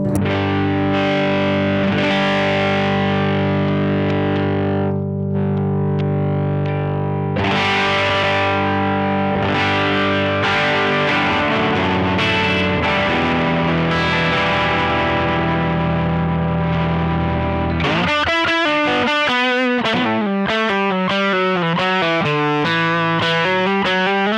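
An electric guitar is played through a Boss OD200 drive pedal in X drive mode, a style between overdrive and distortion. Sustained distorted chords ring out loudly, followed by a faster run of choppy notes, with no talking.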